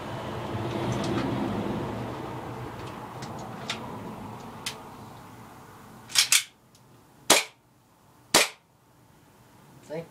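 A vintage-looking airsoft gun fires four sharp clicking pops, two close together and then two spaced apart, after a stretch of quieter background noise and faint ticks.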